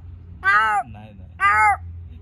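A person imitates a crow with two loud, harsh caws about a second apart, close and alone against a low background hum.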